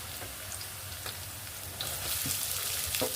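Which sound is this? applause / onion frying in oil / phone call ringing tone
onion frying in oil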